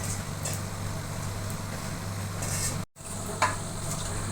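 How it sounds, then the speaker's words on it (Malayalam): Squid frying in a pan with biryani masala, stirred steadily: a constant low sizzle with occasional scraping strokes of a spoon against the pan, and a brief dropout partway through. "നല്ലപോലെ ഇളക്കുക."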